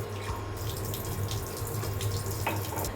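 Two cups of water poured into a pot on an induction cooktop for butterfly pea tea, a steady close splashing stream with a bubbling trickle throughout, no talking.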